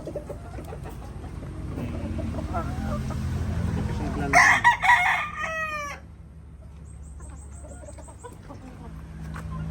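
A gamecock stag crows once on a farm, loud and close, with a rising and then falling call. Low background noise and a faint voice come before it, and other birds sound faintly afterward.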